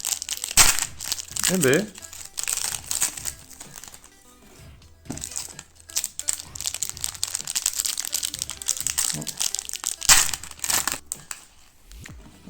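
A foil trading card pack wrapper is crinkled and torn open by hand, with loud close-up crackling and crumpling in bursts throughout, a few sharp rips, and brief speech in between.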